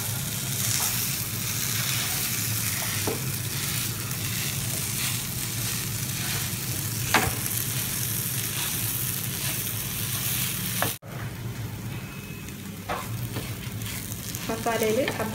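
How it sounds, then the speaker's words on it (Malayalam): Mashed tapioca being stirred into sizzling masala in a pan, with a continuous close frying hiss and intermittent scraping and clacking of the spoon, followed by a brief cut and then more sizzling and stirring. "ഈ മസാലയിൽ ഈ കപ്പ നന്നായിട്ട് മിക്സ് ചെയ്തെടുക്കാം."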